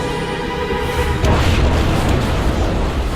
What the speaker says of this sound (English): A massive explosion rocks the Mississinawa